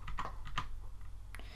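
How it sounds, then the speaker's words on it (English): Several crisp computer keyboard key presses during a Windows Server 2003 services setup, spaced irregularly and moderately close over a low steady hum, with no talking. "Press T on your keyboard to find it easily."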